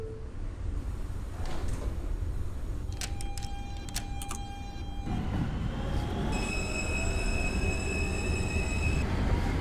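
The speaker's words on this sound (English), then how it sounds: "This is a Manhattan-bound R local train." Simulated R160 subway train from OpenBVE running on a New York local line, a steady rumble of wheels and motors with tonal whines and squealing rising partway through, loud and continuous without talk.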